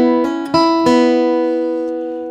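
Guitar notes from the opening of "Horseshoe Bend" are picked one after another, a few quick plucks that then ring out and slowly fade, clear and close with no talking.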